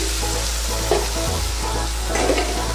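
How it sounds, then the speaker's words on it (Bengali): Ground spice paste is stirred into frying ginger, garlic and onion for a mutton fat dish, giving a continuous close sizzle with occasional scraping stirs over a low steady hum. "এবার আমি এর মধ্যে বেটে রাখা মশলাটা দিয়ে দিচ্ছি"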